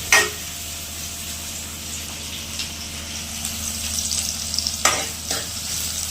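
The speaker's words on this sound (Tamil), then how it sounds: "இந்த வெங்காயம் மட்டும் நல்லா ஃப்ரை ஆகும்" Onions fry in groundnut oil with a steady, close sizzle and soft bubbling that runs throughout, broken by a few sharp stirring scrapes.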